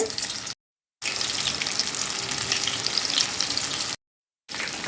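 Soya chunks for soya chilli hiss and sizzle as they drop into hot oil, a steady bright frying noise broken by two brief silent gaps.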